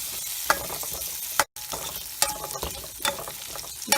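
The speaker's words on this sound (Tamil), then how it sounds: "மிளகா, கருவேப்பிலை, வெங்காயம் நல்லா வணங்கணும்" Chili, curry leaves and onion sauté in a pan for a pongal dish, with a spoon scraping through them in repeated close strokes over a steady sizzle. One brief silent gap breaks the stirring, and no one speaks.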